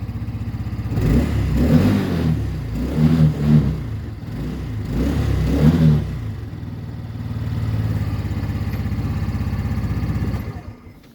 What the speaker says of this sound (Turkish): Biraz gaz verelim.